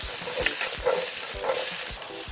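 Shallots, garlic and sand ginger stir-frying in a wok over a flame, a loud continuous sizzle with rhythmic low thumps of the pan being worked, and no voices.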